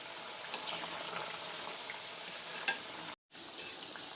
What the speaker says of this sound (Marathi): गॅसची फ्लेम मिडियमवर ठेवूनच आपल्याला शंकरपाळी तळून घ्यायची आहे